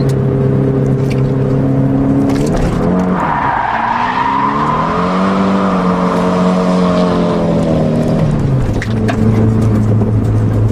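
Tires squeal loudly in a long sustained skid over a roaring engine as a car drifts in second gear at about 60, the pitch rising and bending as the car slides, then easing off.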